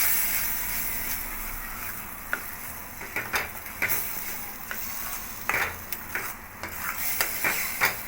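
Onion-tomato gravy being stirred into paneer masala in a home kitchen pan, with a steady sizzle and hiss under a scattering of sharp scraping and clinking strokes that grow busier in the second half.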